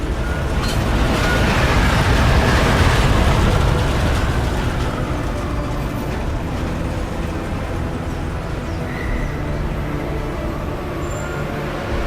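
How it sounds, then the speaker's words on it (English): Train ride in Deus Ex: Mankind Divided, a continuous loud rumbling roar of the carriage on the rails, swelling briefly early on and then holding a steady drone with faint high whines. "Just getting off the train now."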